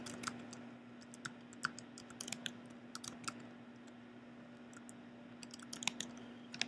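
A password typed on a computer keyboard during a Google Apps account setup, heard as quiet clusters of light key clicks with pauses between them over a low steady hum.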